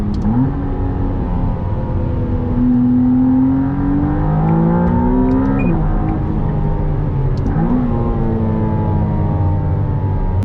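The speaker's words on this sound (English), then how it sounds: "You got all the engine noise behind us because obviously it's a mid-engine." McLaren Artura mid-mounted engine droning behind the cabin while driving, a steady loud rising hum with pitch climbing and dropping at gear shifts, no talk.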